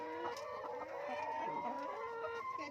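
Chickens clucking and calling over one another, a busy, continuous flock sound close by.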